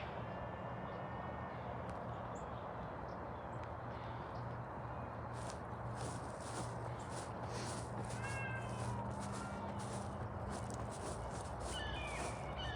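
A cat meows repeatedly over a steady, noisy outdoor background, the cries rising and falling in several drawn-out calls, some fairly close.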